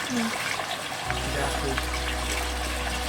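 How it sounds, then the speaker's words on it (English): A shower of water sprays steadily into a koi pond, a broad continuous hiss and splash that switches on and stays loud and even, with a person talking faintly underneath. "Big shower."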